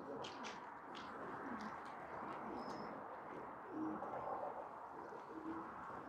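Pigeons coo softly on a rooftop loft, with low repeated calls blending into a faint outdoor background, and a voice speaking quietly.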